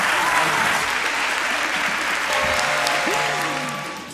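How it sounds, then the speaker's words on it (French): An audience at a televised school quiz final applauds steadily throughout, a dense wash of clapping that slowly fades toward the end, with faint voices and a few tones underneath. "On les applaudit pour ce joli geste."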